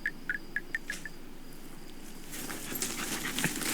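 Several dogs give a short run of quick, sharp barks at a distance outdoors, followed by quieter ambient outdoor noise with insects.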